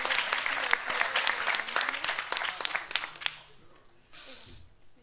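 Applause from the audience at the T3chFest 2016 closing and prize-giving ceremony, a burst of dense clapping that thins out and fades after about three seconds, followed by a brief hiss.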